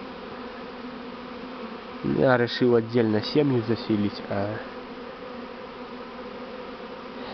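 A swarm of Buckfast bees keeps up a steady, low, droning buzz throughout, while someone speaks briefly over it in the middle.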